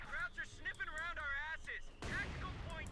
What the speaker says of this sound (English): Jaegers there getting blasted with the mortar half track